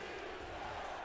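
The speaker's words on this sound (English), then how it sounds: "Crowd on their feet chanting defense" Video game football crowd in a Denver at New Orleans matchup, a dense, steady roar of massed voices chanting for defense, uniform and continuous without breaks, faint in level.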